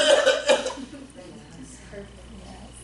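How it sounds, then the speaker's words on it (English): A deliberately exaggerated, acted cough bursts out loudly at the start, then gives way to quieter throaty vocal sounds close to the microphone. "Overacting cough, but that's the cough I want, right?"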